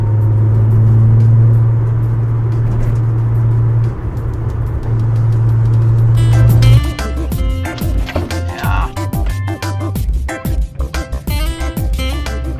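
A lowered Datsun 240Z with a swapped 1JZ engine drives along, a steady droning hum that drops away partway through, leaving a rougher idle rumble with clicks and knocks nearby.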